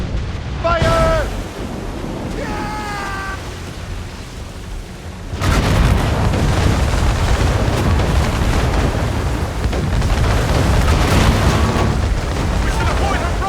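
Broadside cannon fire from a warship in Assassin's Creed Rogue during a naval battle at sea: heavy booms and a sustained rumbling barrage under shouted voices, with ocean noise behind.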